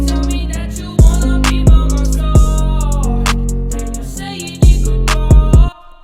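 A rap vocal processed with a Fruity Stereo Shaper delay offset about 40 milliseconds to the right, sung over a loud beat with punchy low drum hits recurring every second or so.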